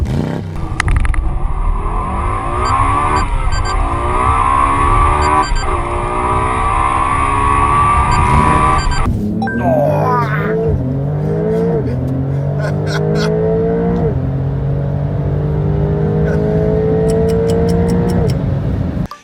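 A Porsche 911 Turbo S holding its revs on launch control, a loud steady engine drone that rises with a few stepped pitch jumps before a sharp launch and a series of rising gear-change sweeps that fill the rest of the run.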